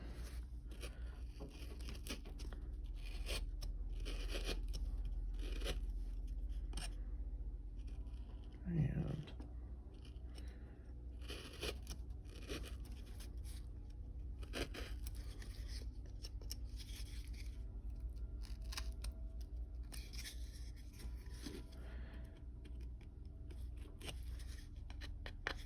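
A knife makes stop cuts into soft cottonwood bark while carving a Santa and tree, giving faint scratchy scraping and small clicks through the stretch, with one sharper crunch near the middle.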